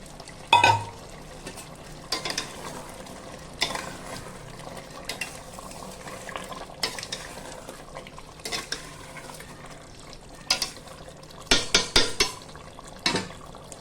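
Fried potatoes stirred into a pot of chicken dum biryani, with soft scraping and occasional clinks of a spoon against the pot, plus a few louder knocks near the end; no talking.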